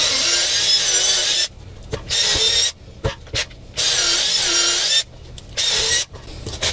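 A drill bores 3/16-inch holes into a classic Boston Whaler RPS backrest during a Montauk restoration, several loud whining bursts separated by short pauses, close up with no talk.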